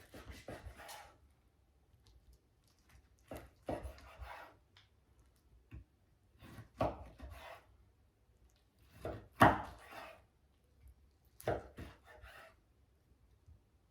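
Knife strokes slicing smoked meat from a Lone Star Grillz 30x36 offset cabinet smoker, soft rasping cuts in short separate bursts with quiet pauses between them, close and faint.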